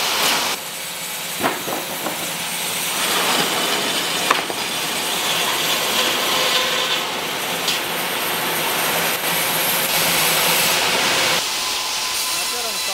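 A sawmill cuts logs into slabs and edged boards, giving a loud, continuous roar of saw and machinery with hissing, whining blade tones and a few knocks throughout.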